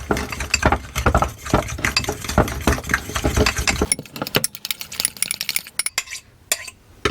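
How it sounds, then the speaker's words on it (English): A thin beer batter for frying fish is stirred briskly in a bowl, giving a busy run of close scraping and clinking whisk strokes that loosen into sparser, sharper taps toward the end. No one talks. "So give it a good stir up."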